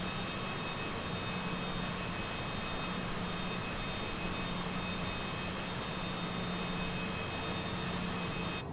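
A Working Title CJ4 business jet lands in a flight simulator game, its engines a steady, even roar with a high whine, continuous and without speech.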